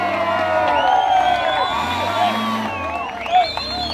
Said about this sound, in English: the crowds who cheered them on